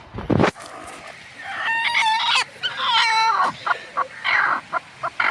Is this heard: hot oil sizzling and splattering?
no